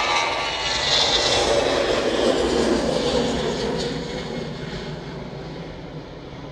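An airliner departs Manchester Airport for Copenhagen with a broad, roaring jet engine wash. It swells to a peak and then slowly recedes into the distance.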